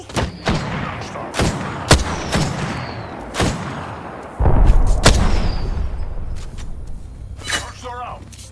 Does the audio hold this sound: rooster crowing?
no